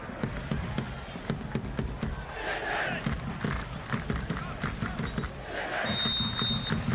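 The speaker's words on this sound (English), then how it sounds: "Sydney FC fans stand to applaud, but they know their team is in a big fight" Football crowd at a top-of-the-table A-League match between Sydney FC and Melbourne City, fans applauding as the first half ends; a broad, rumbling stadium roar with scattered clapping swells and fades throughout.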